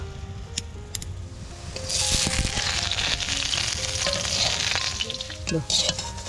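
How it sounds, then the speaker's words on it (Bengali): Loud, steady sizzle of lentil fritters frying in hot oil rises after a couple of seconds, with a voice talking over it. "এই যে মা দেখো বড়া ভাজছে"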